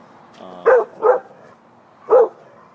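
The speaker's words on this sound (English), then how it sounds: "My dog is barking at their dog." A dog barks three times close by, two quick barks then a third after a short pause, loud against a quiet background.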